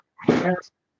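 A single sharp sneeze, close and fairly loud, lasting under half a second with a brief voiced burst, then silence.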